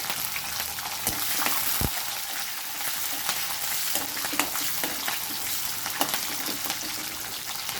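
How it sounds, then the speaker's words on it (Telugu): Green chillies fry in a pan with roasted peanuts, a steady close sizzle and crackle in hot oil, with occasional stirring scrapes and no talking. "ఇప్పుడు ఈ పల్లీలు అయితే వేగినాయి. పచ్చిమిరపకాయలు వేసుకోవాలి."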